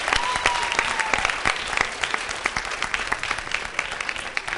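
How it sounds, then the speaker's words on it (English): A round of applause from the audience at a hip hop youth summit forum, many hands clapping in a brisk, uneven patter that holds steady throughout at moderate distance. "Let's give them another round of applause."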